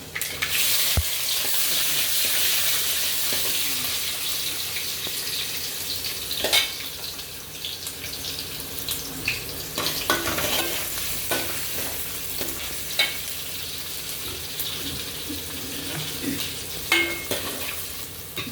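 Onions sizzle and fry in hot oil with a constant crackle, interrupted now and then by the clink and scrape of a stirring spoon.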